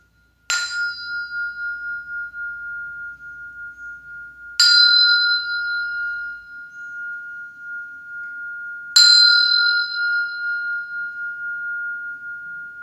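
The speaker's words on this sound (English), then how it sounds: "I'll ring this bell for purification" A meditation bell is struck three times at even intervals during a loving-kindness meditation session, each ring opening with a bright metallic strike and then sustaining a clear, pure tone that fades slowly in a quiet room.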